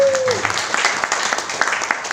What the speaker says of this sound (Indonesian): Yang percaya boleh berikan tepuk tangan sekali.